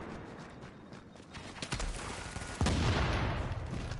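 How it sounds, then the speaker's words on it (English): Explosive-round gunfire in The Division, a run of sharp cracks building to a loud burst of impacts and booming blasts that trail off into rumbling noise, with no talk over it. "He's using explosive bullets."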